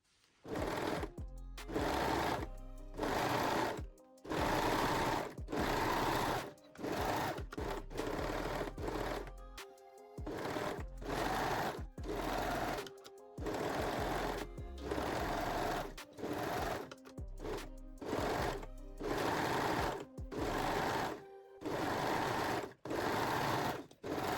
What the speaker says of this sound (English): And sew all side and shoulder seams on both layers, main and also the lining one.